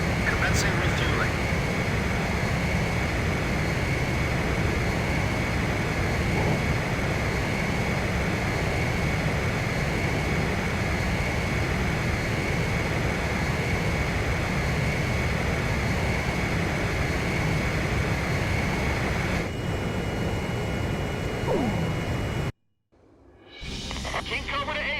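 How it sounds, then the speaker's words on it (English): Jet aircraft engines drone during aerial refueling in the video game Ace Combat 5, a steady loud roar with radio voices speaking over it before the sound cuts away near the end. "Blaze, maintain your current flight path. Perfect, Blaze. Commencing refueling"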